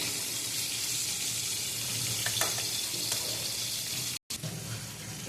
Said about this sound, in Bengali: মাঝখানটাতে আমি দেব একটু গোটা জিরে আর গোটা গরম মশলা, দারচিনি, এলাচ, লবঙ্গ, এটা আমি ফোড়নে দিয়ে দিলাম